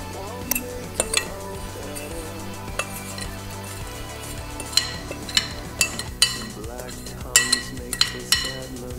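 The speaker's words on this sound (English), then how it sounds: "you're gonna take your rubber spatula and just spread it evenly across your apples" A rubber spatula spreads crumble evenly over apples for a gluten-free apple coconut crisp, giving soft scrapes and scattered clinks against the dish over steady background music.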